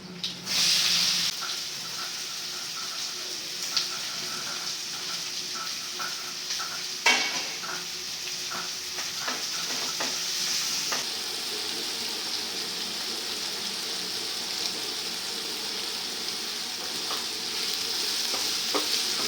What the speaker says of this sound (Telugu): ఇదిగోండి తాలింపు గింజలు కూడా వేగినాయి